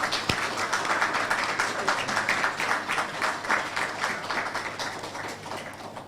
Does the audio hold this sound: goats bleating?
no